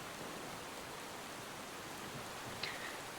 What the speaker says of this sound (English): rain fell over Moonveil Pack.